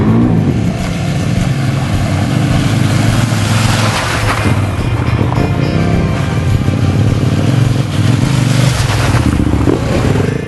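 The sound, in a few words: Enduro World 650 motorcycle riding through the route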